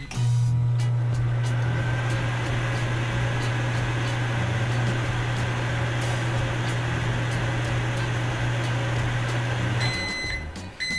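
A microwave oven runs steadily for about ten seconds with a constant low hum and a fan whir, then stops with a few beeps at the end.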